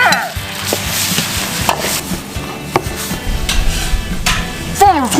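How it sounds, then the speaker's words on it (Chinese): Pork mince hitting hot oil with Sichuan peppercorns in a wok for zhajiang noodle sauce, close and loud sizzling with repeated scraping and stirring knocks from a spatula, no talk. "起锅烧油，来上几个花椒，放入猪肉馅"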